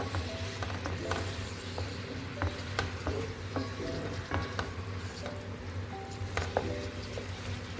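Beef Vienna sausages cook in a pan with a steady, low sizzle and frying crackle, and occasional light pops and stirring taps sound over it. No voices are heard.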